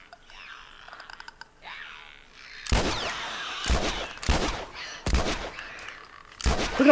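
Gunshots from a gun in the video game The Last of Us, about five loud, sharp cracks in an irregular burst, following quieter clicking and shuffling sounds.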